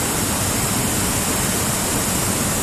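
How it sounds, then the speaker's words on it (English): A waterfall at Discovery Cove roars loud and steady as a dense, unbroken rush of falling water, heard close with no pauses. "Where else can you sit under a waterfall?"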